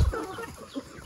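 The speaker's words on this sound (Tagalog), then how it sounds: "Daming manok no." Several chickens cluck briefly at close range in a short, quiet burst of low murmuring calls.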